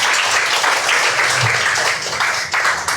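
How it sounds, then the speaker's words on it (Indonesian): Audience applause for Pak Wayan at an Indonesian talk or discussion session, a steady broadband patter of many hands clapping that fills the whole stretch fairly loudly, with faint murmuring underneath. "tepuk tangan buat Pak Wayan"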